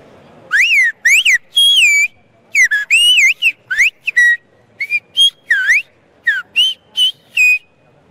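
Whistled language from La Gomera demonstrated by a woman, loud, close piercing whistles in quick phrases of rising and falling glides separated by brief silences, with no talking over them.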